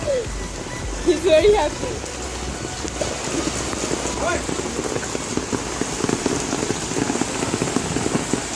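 Steady rain patters outdoors while a dog named Almond, out in rain for the first time, runs around; a voice talks over the continuous wet hiss, with a brief louder splash near the start.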